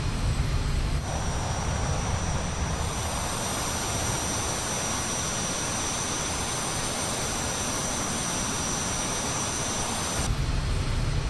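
Steady, loud whine and roar of an MB339 jet engine in a flight simulator, continuous for the whole stretch with a sustained high tone over a broad rumble, heard alone.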